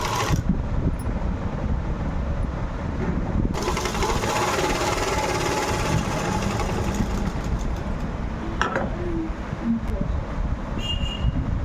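A sewing machine stitches the lining of a gathered-frill kids' frock, running in one continuous close, loud whir for the whole stretch.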